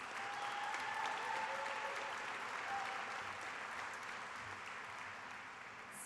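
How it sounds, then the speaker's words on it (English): Graduation ceremony crowd at a technical school applauding welding graduates, a continuous even patter of many hands, distant and soft, holding steady throughout. "If I could have a round of applause for all of our welding grads"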